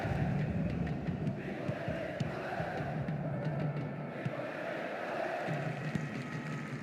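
Stadium crowd noise from a Juventus versus Manchester City Europa League group match in the football video game PES 2010, a steady, dense roar that carries through the whole stretch without a break, with no voices speaking over it.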